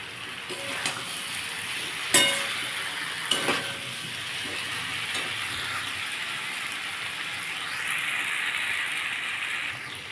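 Potato and pointed gourd sautéing in a pan, a steady close sizzle with a few sharp clinks of a spatula or spoon against the pan early on, no talk.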